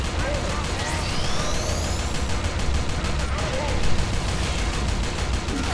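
Rapid gunfire in the third-person shooter Inversion, a dense continuous fusillade of shots over a noisy firefight, with a player talking over it.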